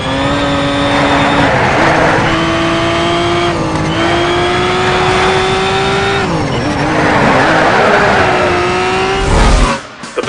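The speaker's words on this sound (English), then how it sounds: "let's watch some more driving. This is Need for Speed Shift." Race cars in Need for Speed Shift on PlayStation 3 roar loudly and continuously, their engines rising in pitch through several gear changes before a brief burst of noise at the end.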